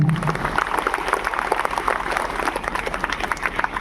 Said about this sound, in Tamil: அதுக்காகவே ஒரு உற்சாகமான கைத்தட்டு